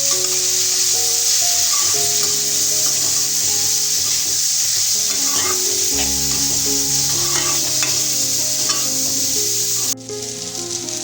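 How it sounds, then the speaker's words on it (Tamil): Boiled lablab beans are stirred into a hot spice tempering, with a loud, continuous hiss and sizzle and soft scraping of stirring throughout. The sizzle stays close and steady, with no talking. "இப்போ வேக வச்சிருக்கிற மொச்சையும் அதில் சேர்த்து நல்லா கலந்து விட்டுக்கணும்."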